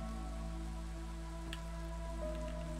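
Steady rain falls in the colony-building game Against the Storm, turning water wheels; a soft, even patter with faint drops and a low hum continues throughout, with no voices.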